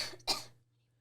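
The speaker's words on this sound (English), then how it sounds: "having a little cough" A single short, sharp cough, close and fairly loud, stopping abruptly and followed by quiet.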